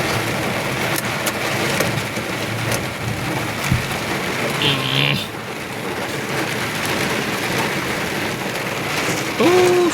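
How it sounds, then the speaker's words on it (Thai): Steady rain patters and hisses across surfaces in a coffee plantation in a continuous wash, with a faint voice and a brief tonal sound briefly rising above it. "ฝนตกพี่น้องอุดมสมบูรณ์"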